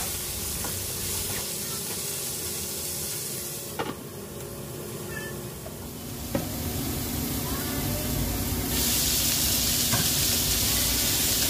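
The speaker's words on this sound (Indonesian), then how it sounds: "tumis bumbu hingga harum, kemudian masukkan pare atau leung kuah atau kukuah. Aduk-aduk lalu ditutup sebentar" Bitter melon sizzles and hisses as it is stir-fried with spices in a pan, with a few sharp clinks of stirring. The frying noise swells louder toward the end, and no one talks.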